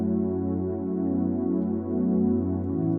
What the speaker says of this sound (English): Then Nathan added this synth, which sounds something like this.